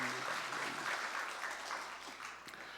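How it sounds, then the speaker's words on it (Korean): Congregation applause at a Sunday church worship service, steady even clapping from many hands, fairly quiet and distant, holding throughout and tapering slightly at the end. "우리 찬양 받으신 주님께 영광의 박수"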